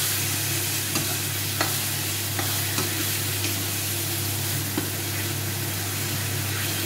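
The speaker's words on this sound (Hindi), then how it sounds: "अब इसमें हम टमाटर भी डाल देंगे, थोड़ी देर ऐसे पकेगा।" Tomatoes cooking in a pan for chicken curry, a steady low sizzle and hum with a few soft stirring clicks and scrapes scattered throughout.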